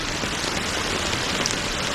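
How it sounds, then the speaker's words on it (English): Rain falling in a video game scene, a dense, steady hiss of downpour with no breaks, fairly loud and even throughout, with no talk. "it's still raining"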